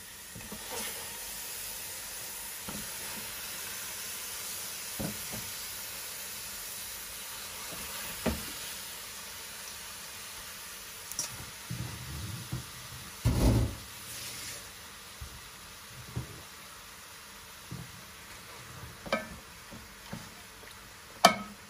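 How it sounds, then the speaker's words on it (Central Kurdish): Chicken pieces frying in a preheated pan for chicken kabsa give off a steady, soft sizzling hiss, with occasional louder crackles and pops breaking through near the middle and end. "سەرەتا مریشکەکە هەڵەکسێنم تۆزێ"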